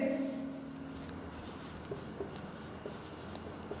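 A pen or chalk writes during a Class 10 trigonometry lesson, making faint, steady scratching and tapping strokes. The sound is quiet and heard alone, without speech.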